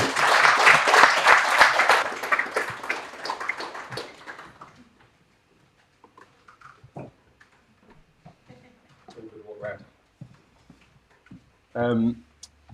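Clapping from an audience at a Sheffield content creators' meetup, a burst of applause that dies away after a few seconds, leaving scattered small sounds and brief talk near the end.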